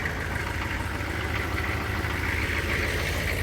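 A 1994 GMC Suburban with a 6.5-liter turbo diesel idles steadily, its dense low clatter and rumble droning close and unbroken with no talk.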